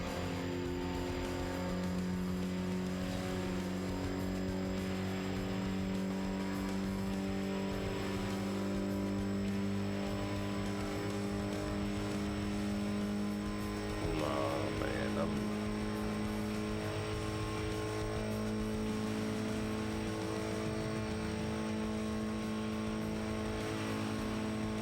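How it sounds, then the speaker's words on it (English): A turbocharged car engine in the racing game Shutokou Battle drones continuously with steady tonal whine and rumble, a sustained hum throughout with a brief blip midway and no other sounds standing out. "I can almost hear the turbos all the way through now."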